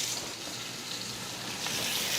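Floured turkey rolls browning in a hot pan give a steady, close sizzle and crackle of frying, with no one speaking.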